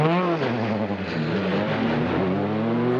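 A Peugeot 306 Maxi rally car driving fast, its engine a loud, close, continuous snarl with rising and falling pitch as it revs between gears, with no speech.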